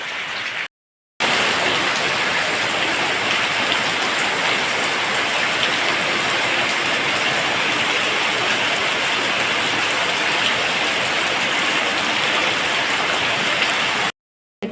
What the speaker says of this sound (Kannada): ನಾನು ತೋಟದಿಂದ ಬಂದಾಗುವಷ್ಟರಲ್ಲಿ ಜೋರು ಮಳೆ ಬರಲಿಕ್ಕೆ ಶುರುವಾಯಿತು